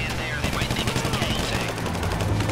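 Rapid bursts of gunfire in the video game GTA 5 Online crackle loudly and continuously over a rumbling background, with voices faintly mixed in.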